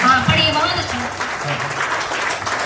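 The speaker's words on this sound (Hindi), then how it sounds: "बहुत अच्छा पढ़ रहे हो बहन जी, एक बार तालियां बजा दीजिए" Audience applause at a Hindi poetry recital, a burst of clapping mixed with voices and talk over it, moderately loud and fading slightly toward the end.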